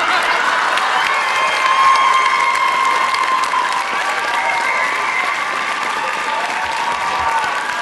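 A seated audience rises into a standing ovation at a talent-show DJ performance, steady loud applause with cheering and crowd noise sustained throughout.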